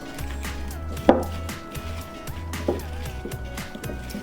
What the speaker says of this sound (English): we're just going to give this another good mix round